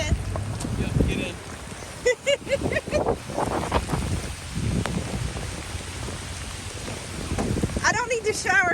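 Rain patters steadily on a camper being parked in a downpour, a dense, even hiss throughout. People talk over it in irregular bursts, and a few thumps and bumps break through.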